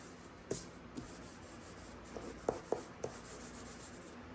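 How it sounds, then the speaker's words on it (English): Color stick rubbing across paper backed with foam, held at an angle for smooth coloring, giving soft scratchy strokes with a few brief louder swipes, close and quiet. "I'm holding my color stick at an angle"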